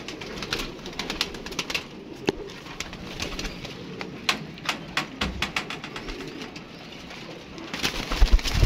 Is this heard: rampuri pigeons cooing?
yes